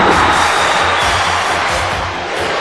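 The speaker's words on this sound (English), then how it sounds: "Chant going on from this capacity crowd" A capacity crowd fills a wrestling video game arena with a loud, continuous roar, with rhythmic chanting swells rising through the dense noise.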